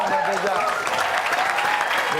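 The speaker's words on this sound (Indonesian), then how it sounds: "Tepuk tangan, Mbak Teja." Applause from a small group mixed with overlapping chatter and laughter, steady and fairly close throughout.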